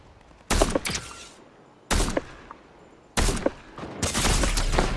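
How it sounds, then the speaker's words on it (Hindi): Gunfire in the video game Fortnite comes in four sharp, loud bursts of rapid shots with short quiet gaps between them, the last burst running longer than the others. "कोई किसी ने मेरे पे गोली चलाई है।"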